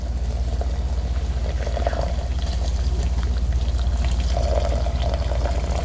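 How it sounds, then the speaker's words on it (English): Water poured into a homemade slow sand filter, a continuous splashing pour with a steady watery rush and gurgle that holds close and loud from start to finish, no talking over it. "I'm going to pour some water into my filter."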